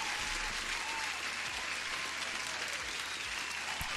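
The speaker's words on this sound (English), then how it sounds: "Teacher FX, applause to you, my man, as well." Dense crowd-style applause sound effect played on a live futures trading stream, a continuous wash of many hands clapping, fairly quiet and even, with no voices over it.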